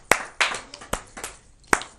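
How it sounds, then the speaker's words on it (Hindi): Sparse, separate claps from an audience at a New Year comic poetry gathering (kavi sammelan), a few sharp hand claps scattered unevenly over two seconds rather than a sustained ovation. "तालियां आपकी चाहिए इसमें"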